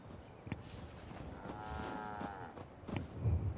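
Cattle lowing in the video game Fallout 4, a single drawn-out moo rising and falling over a low ambient game backdrop with a few faint footstep-like knocks, no talk.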